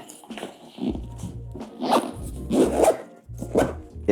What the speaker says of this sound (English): when you zip it up